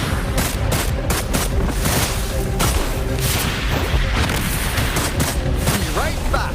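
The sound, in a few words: gunfire in the video game Wuthering Waves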